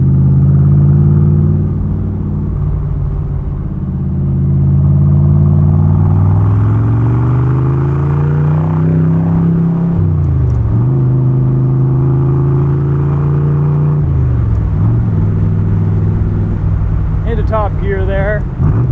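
A 1966 Chevrolet Corvette with the L79 327/350 V8 and a 4-speed manual gearbox drives by with a deep, loud engine rumble. The engine note rises and falls through the gears, with a voice speaking briefly over it near the end.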